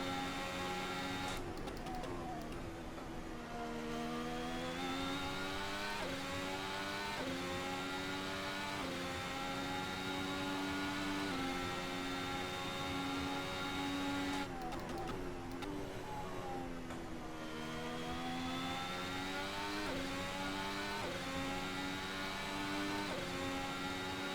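A modern Formula 1 car engine howls through a hot lap of the 1967 Silverstone circuit in a racing game, a steady high-pitched whine rising through the gears, with two sharp drops where the throttle lifts before it climbs again.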